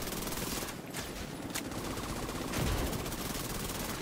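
Sustained automatic gunfire from a rifle in the shooter game The Division 2, a dense continuous burst of rapid shots that runs the full length, loud and close, with no voices over it.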